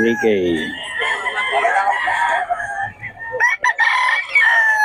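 A Golden Boy sweater gamecock crows loudly and close by at a poultry market in Bocaue, drawing out several long harmonic calls, with other roosters and market noise mixing in throughout.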